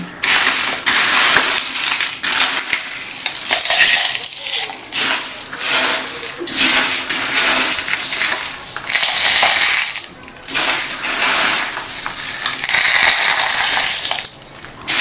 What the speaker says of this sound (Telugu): ఇప్పుడు మిక్సీ జార్లో వేసి మిక్సీ చేసేసుకుందాం